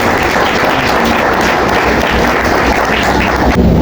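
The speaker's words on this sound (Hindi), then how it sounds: "मैं चाहता हूँ सब के लिए जोरदार तालियां।" A church congregation at a thanksgiving service breaks into loud applause, a dense and continuous roar of many hands clapping close by, steady throughout with no speech.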